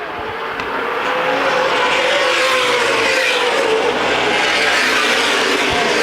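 Race cars roaring around the track at the Winchester 400 CRA Super Series event, a loud sustained engine drone that swells as the field passes, heard from trackside without commentary over it.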